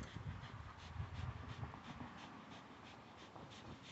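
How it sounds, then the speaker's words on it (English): A dog pants rapidly and rhythmically at close range, quiet and steady, with faint whimpering snorts mixed into the breathing. "Good dog. That's my dog."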